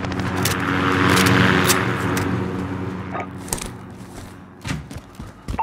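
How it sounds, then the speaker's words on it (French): A radar drone aircraft in Call of Duty Modern Warfare passes overhead, its steady engine drone swelling loud, then fading away, followed by a few scattered thumps. "Un drone radar dans la zone."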